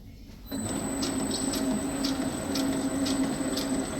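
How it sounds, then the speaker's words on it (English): A double twist wrapper machine is switched on and runs with a steady mechanical hum, overlaid by rhythmic clicking and whirring from its moving parts. "if I turn the machine on"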